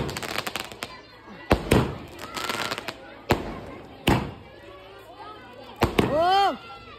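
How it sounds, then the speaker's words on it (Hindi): Firecrackers going off at a brother's wedding celebration, a series of sharp, loud bangs scattered irregularly with a whistling, rising shriek near the end, while people talk over them. "और ये देखो गाइस पटाखे"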